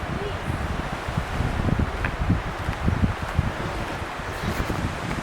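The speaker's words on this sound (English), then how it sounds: "the wind's going to get possibly stronger." Strong wind of around 20 to 25 knots at a sailing spot in Obstruction Pass State Park roars steadily across the microphone, with gusty rumble and rustling throughout.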